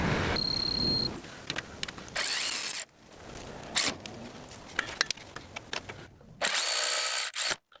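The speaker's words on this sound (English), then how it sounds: "I'm just going to torque up the anti-roll bar bolts and the steering rack bolts." A power tool on a VW Golf GTI mk5 tightens anti-roll bar and steering rack bolts in several short, loud whirring bursts, with clanks and handling noises between them, close by in a garage.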